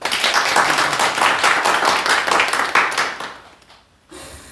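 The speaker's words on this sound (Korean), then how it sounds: "우리 박수 한번 칩시다" Congregation clapping together in a church after a drum performance, a dense, steady burst of many hands for about three seconds that thins out and fades, followed by a brief quieter stretch.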